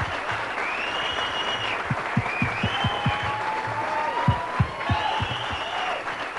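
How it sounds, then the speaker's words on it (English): An audience claps steadily for dancers at an evening dance show, with a few sharp louder claps and whistles or cheers rising over the applause. "how about a nice big round of applause for all of our dancers this evening?"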